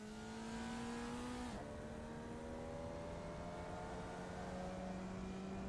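Formula Vee open-wheel race car in the iRacing simulator, its small engine droning steadily with harmonic tones that dip briefly as it shifts, then climb again as it accelerates on track, loud and close throughout.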